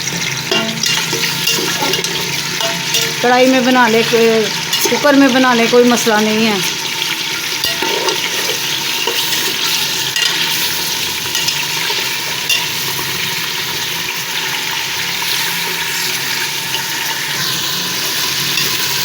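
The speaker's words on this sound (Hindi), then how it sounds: "अब इसमें चिकन डाल के भुनाई कर लेंगे।" Chicken frying in hot ghee in a pot: a steady, loud sizzle and crackle runs throughout, with someone speaking briefly over it near the start.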